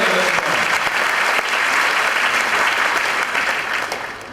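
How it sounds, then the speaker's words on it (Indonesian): Dense, steady audience applause fills a large hall at a corporate year-end event, loud and continuous for several seconds before tapering slightly at the end. "Sekali lagi boleh kasih tepuk tangan yang paling meriah untuk Anda semua"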